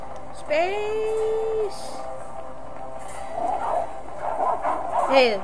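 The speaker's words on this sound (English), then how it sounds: "that wolf ran into the wall" A wolf in the game Shelter 2 gives a sharp rising yelp and drawn-out whine, followed by clustered, choppy barks and a final yelp, fairly close and loud.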